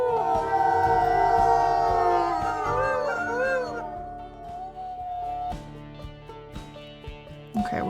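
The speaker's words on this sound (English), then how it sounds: "Got Blaze actually howling." A wolf howls in a video game, long wavering tones rising and falling in close overlapping calls, then fading out into softer rustling and a few faint clicks.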